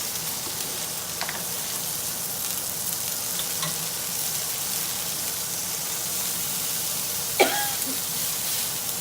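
Brown onion for an Oklahoma onion burger sizzles on a hot griddle in a steady, moderately loud hiss, with a couple of brief knocks or scrapes.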